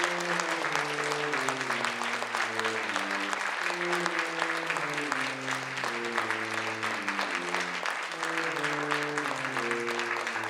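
Audience applause for a speaker named Brad at a National Hunger and Homelessness Week event, steady clapping running under a looping instrumental music bed with a pulsing low melody.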